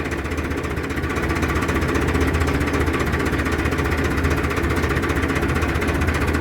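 A Massey Ferguson 265 tractor's diesel engine runs at idle, a loud, close, steady chugging rumble with rapid rhythmic knocking throughout, no voices.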